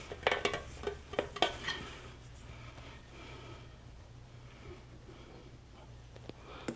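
A bundt pan being greased and floured: a few sharp metallic taps and clatters at the start, then a soft scraping, shaking rustle that fades quieter toward the end.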